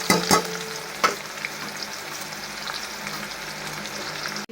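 Chopped onions with asafoetida and curry leaves sauté in hot oil, a steady close sizzle with a couple of sharp stirring clanks at the start.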